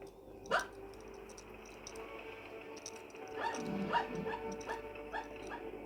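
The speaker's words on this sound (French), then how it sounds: "Il y a mon chien qui rêve, je sais pas si vous l'entendez." Dog whimpering and giving soft muffled yips and barks while dreaming, a sharp yelp early on, then a series of short rhythmic whines and barks, faint and close in a quiet room.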